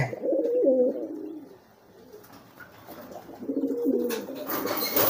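A courting pigeon coos in two throaty, rolling bursts, one at the start and another near the end, close and fairly loud with a quieter pause between them.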